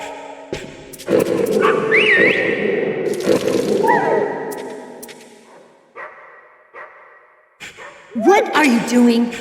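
A dog in the Metal Gear Solid video game barks and yelps with echoing, whining cries in several bursts, mixed with game sound effects and short swooshes.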